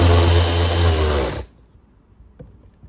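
A power driver runs steadily for about a second and a half, loud and close, while bolting down a Sea-Doo personal watercraft umbrella holder, then cuts off abruptly, leaving near silence with a faint tap.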